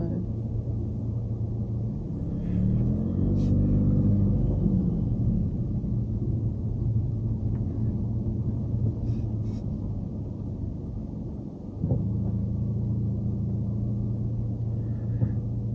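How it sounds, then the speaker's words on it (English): Steady low road rumble of traffic heard from inside a moving rideshare car around Werribee, with a continuous engine-and-tyre drone, a passing vehicle swell near the middle and brief voices in the background. "I can always tell what time of day it is by the sound of the traffic outside the house"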